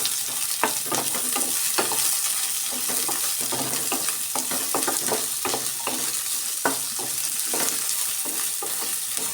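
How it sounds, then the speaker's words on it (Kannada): Onion and chillies frying in a pan for tomato bath masala, with steady sizzling throughout and repeated sharp scraping taps of a spoon stirring against the pan, close and continuous. "ನೋಡಿ, ಈ ಥರ ನಾನು ಫ್ರೈ ಮಾಡ್ಕೊತಾ ಇದ್ದೀನಿ."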